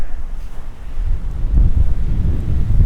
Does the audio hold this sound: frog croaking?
no